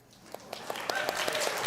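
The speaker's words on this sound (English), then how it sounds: "That's the most applause we've had this whole time." Applause from a summit audience swells quickly from quiet to full, with sharp individual claps standing out above the growing crowd clapping.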